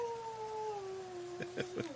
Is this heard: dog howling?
yes